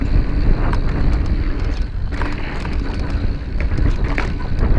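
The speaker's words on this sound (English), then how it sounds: "Oh, that wind." Strong, continuous wind roar buffets the microphone while riding the Blue Tier trails in Derby, a steady loud rush filling the whole clip with small gusty swells and no talking.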